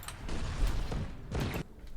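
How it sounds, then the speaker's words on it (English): Booming cannon blasts in the Cossacks 3 strategy game, two heavy bursts of artillery about a second apart over a continuous low battle rumble. "And all the damn cannons all over the place."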